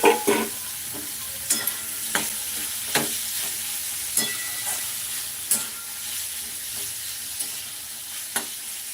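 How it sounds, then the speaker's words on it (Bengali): Thin-cut potatoes fry in a pan with lightly browned onions, stirred with a utensil: a steady close sizzle carries sharp scrapes and clicks at irregular intervals, with no talking. "আলুটা ভাজা হবে"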